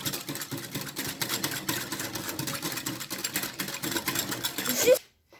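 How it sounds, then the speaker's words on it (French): Apple cake batter for a no-bake cake being beaten right after milk is added, giving a steady, busy whirring churn that runs continuously for about five seconds, then cuts off abruptly into silence. "Et maintenant, nous allons fouetter. Il faut bien fouetter."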